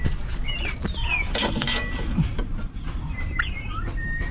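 A 70-day-old desi rooster makes a few soft, scattered clucks and chirps while being weighed, faint against a steady background hiss.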